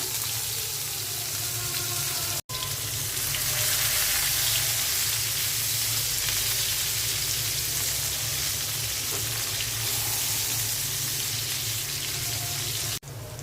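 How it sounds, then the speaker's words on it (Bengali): Onions sizzle in hot oil left over from frying hilsa fish: a loud, steady, crackling fry that runs continuously, broken only by two brief cuts. "ইলিশ ভাজা তেলের মধ্যেই আমি পেঁয়াজ দিয়ে দিচ্ছি রান্নার জন্য"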